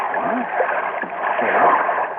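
Water lapping and gurgling against a drifting boat hull in a radio drama scene, a continuous close wash of soft splashes with no voices.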